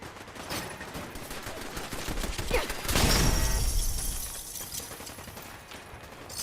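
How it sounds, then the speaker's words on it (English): Rapid gunfire crackles through a Fallout 4 firefight, a dense stream of sharp shots building to a louder, closer burst in the middle before easing back to scattered fire, with no one talking. "Seems to be a lot of shooting going on here."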